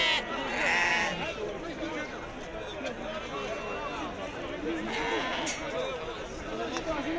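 Sheep bleat repeatedly at a Tuesday livestock market in Azrou, Morocco, their cries rising out of constant crowd chatter and nearby talking voices.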